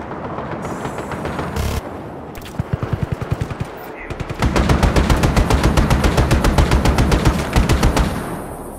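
Bursts of rapid gunfire crackle in quick repeating volleys, loud and sustained, with a few scattered single shots leading into a long continuous automatic stretch.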